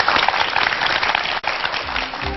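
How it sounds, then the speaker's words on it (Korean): A studio audience at a televised lecture claps to welcome the professor, a dense burst of applause with a brief dip midway and a low sound creeping in near the end. "황농문 교수님의 강연 큰 박수로 청해 듣겠습니다"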